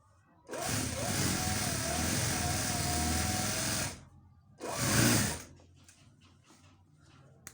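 A sewing machine stitching a child's shalwar runs in a steady whirring burst for about three seconds, pauses, then runs again briefly before stopping, close and clear.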